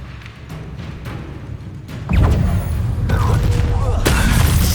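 A Confringo fire-blast spell in the video game Hogwarts Legacy bursts in with a loud booming impact partway through, followed by sustained crackling rumble and further combat blasts, loud and close.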